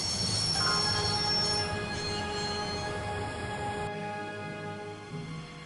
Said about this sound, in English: I'd always wanted to stop a train, and now was my chance.